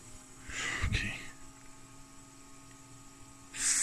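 A Glassman Sorensen DCS80-37 3 kW switch-mode power supply hums steadily at a fairly quiet level, with a brief louder rush of noise as it boots up. A hissy burst follows near the end.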